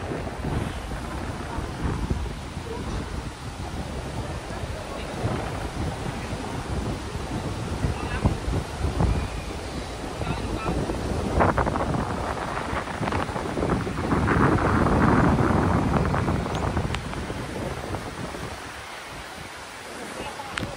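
Wind gusts buffet the microphone over the wash of sea waves at a Boracay shore, growing stronger midway before easing slightly.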